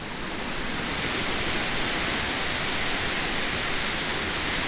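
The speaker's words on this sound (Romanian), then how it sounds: "Acum cobor la baza cascadei." The Spumoasa cascade in the Bucegi mountains roars as a steady, dense rush of falling water, close and unbroken throughout with no voices.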